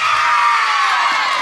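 A large audience shouts and cheers in unison when called on, a loud, dense, sustained roar of many voices filling the space without a break.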